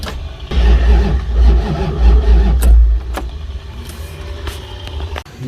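An old mini-truck's engine is cranked and sputters, a loud low rumble surging for about two seconds and dropping, followed by clunks and handling noises as it fails to settle.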